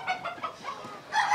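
Chickens on a Fayoumi poultry farm cluck in a string of short, close calls over about a second and a half, with a louder, brighter burst of clucking at the end.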